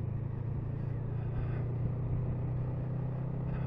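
A 2022 Honda CMX 500 Rebel motorcycle pulling away, its engine giving a steady, loud low-pitched rumble that holds evenly throughout, close to the listener with no talking.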